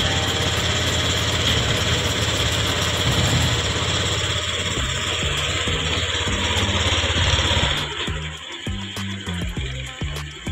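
Motor scooter engine idling as it warms up before an oil change, a steady close low rumble with vibration that thins and turns slightly uneven toward the end.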